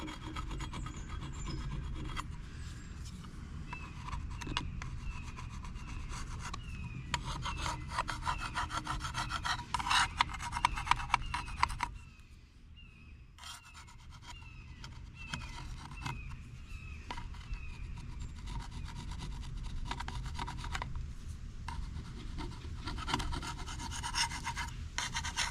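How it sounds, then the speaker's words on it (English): Brass paint scraper working a gasket off an aluminum surface on a 1993 KX 125 dirt bike: steady close rasping strokes, continuous and rhythmic, briefly pausing midway before resuming, with no talking. "I got my favorite brass paint scraper, which I believe is amazing for gasket scraping on aluminum surfaces"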